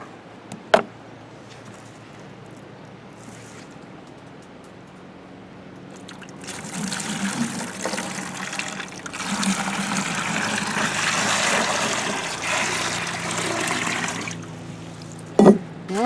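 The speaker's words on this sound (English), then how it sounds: "This one says to add 4 inches of water. So go ahead and pour that in" Water from a bucket pours into a laundry tub, a steady rushing splash that swells midway and runs for several seconds before tapering, with a couple of sharp knocks near the end.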